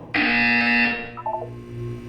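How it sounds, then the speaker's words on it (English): Loud electronic buzzer in the Portal 2 video game, one sustained harsh tone lasting about a second that then cuts off, followed by a few brief fainter beeps and a low hum. "When you hear the buzzer, look up at the ceiling."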